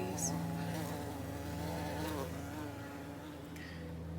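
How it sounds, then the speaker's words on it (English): Bees buzz around the flowers of a persimmon tree in a spring garden, a steady, close drone that holds through the whole stretch, with no talking. "look at all of these flowers, these bees."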